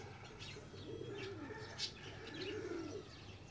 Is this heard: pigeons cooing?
yes